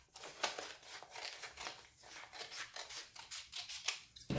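Scissors cut through fabric while a scrunchie is made, giving quiet, close, repeated snipping and rasping strokes in an uneven rhythm with no talking.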